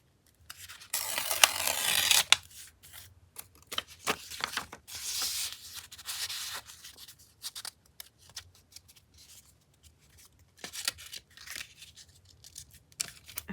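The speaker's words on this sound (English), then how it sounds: "I'm just going to tear this so it's torn" Paper torn by hand for ephemera crafting, a few close, rasping rips of varying length separated by short pauses, with no talk.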